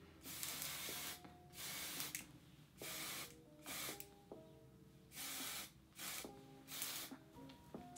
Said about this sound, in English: So I just like to spray this on the same areas that I highlighted on my cheekbones.